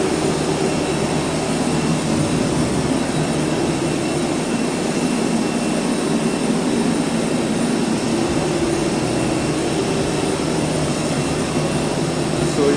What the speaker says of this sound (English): we just reached Delhi Airport